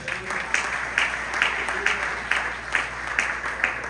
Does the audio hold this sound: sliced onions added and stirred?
no